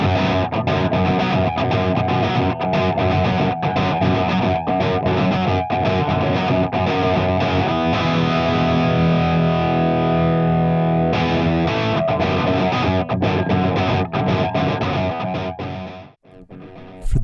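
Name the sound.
distorted Gibson Les Paul electric guitar tone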